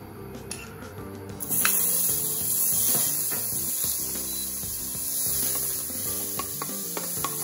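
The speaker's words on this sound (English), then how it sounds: "now we've got our saucepan on the medium heat, and now we're going to add our butter." Butter melts and sizzles in a saucepan on medium heat, a soft, steady crackle rising after a few clinks of utensils, with occasional stirring scrapes.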